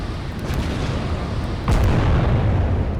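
Battleship guns firing in the naval game Battleship Command, a single deep booming blast midway over a constant low rumble of sea and engine ambience, with no voices.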